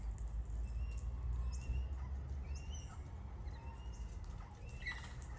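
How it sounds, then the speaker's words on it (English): Wild parrots squawk and chirp in a garden tree, repeated harsh calls scattered over a steady outdoor background, fairly faint and with no talking. "having those birds in our garden."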